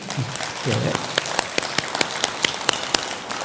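Applause from an audience at a Buddhist dharma talk in a temple hall, a dense wash of clapping with a few sharper claps standing out, and a brief voice early on.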